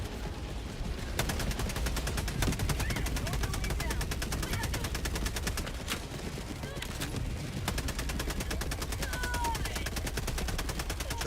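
Rapid strafing gunfire in the video game Helldivers 2, a dense, continuous rattle of automatic shots and explosions filling the scene from start to finish, with a player talking over the barrage.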